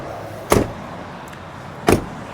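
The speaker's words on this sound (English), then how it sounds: "Just gonna close all the doors." Two solid door slams on a 2001 Ford Excursion Limited with a 7.3L Powerstroke diesel, about a second and a half apart, close and loud against a quiet outdoor background.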